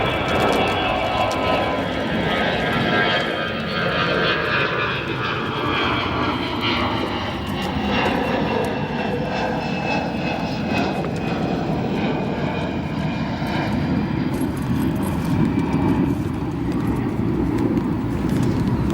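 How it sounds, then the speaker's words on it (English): United Star Alliance airliner touching down at Chicago O'Hare, a sustained loud jet roar with shifting whine tones over nearly twenty seconds, heard steadily from nearby without any talk. "As that United Star Alliance touches down"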